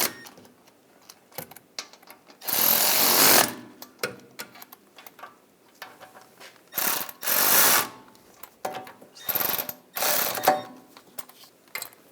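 New wheel hub bolts on a 2009-2017 Volkswagen Tiguan being tightened with a ratchet: repeated bursts of rapid clicking, some long and loud, others short, separated by quiet gaps, up close.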